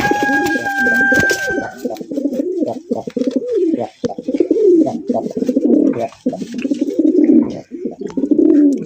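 A red Bombay pigeon coos continuously and close, a deep rolling throaty call repeating in waves with brief pauses, a faint thin tone and some rustling heard early on.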